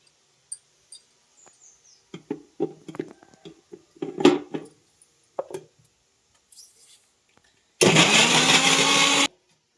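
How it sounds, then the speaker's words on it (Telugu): Clatters and clicks from a kitchen mixer grinder being set up are followed by a short, loud whirring burst of the grinder blending tomatoes, lasting about a second and a half before it stops. "టమాటాలు మిక్సీ."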